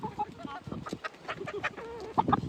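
Chickens cluck and squawk in short bursts close by, mixed with nearby talking voices.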